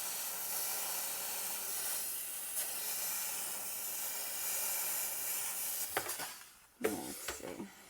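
Steady steam hissing from a Ninja Foodi XL Pro air oven during cleaning, a continuous broad spray that runs unbroken for about six seconds before breaking into short bursts and brief pauses near the end.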